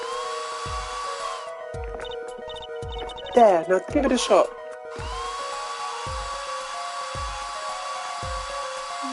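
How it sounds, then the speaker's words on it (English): A hair dryer blasts plaster in the video game Apollo Justice, giving a steady, loud whirring drone with soft rhythmic low thumps underneath, interrupted midway by a short spoken line before the hum resumes. "Just press X to blast it with that dryer."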